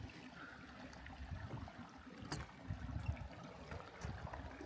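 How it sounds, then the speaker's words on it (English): Water in a desert spring stream at Ash Meadows rushes and gurgles with a soft, steady, faint burble, close by and with no talking. "You can hear the water rushing and gurgling."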